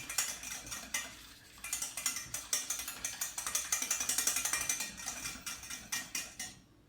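A whisk beats eggs in a pan on an induction hob while making truffle scrambled eggs. Quick, rhythmic metallic clicks and scrapes ring out up close, starting sparse, then speeding into a steady run before stopping abruptly.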